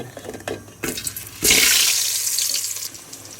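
Hot water pours into a cooking pot of boiling cabbage and cauliflower, a loud close gushing splash after a few brief knocks, trailing off near the end.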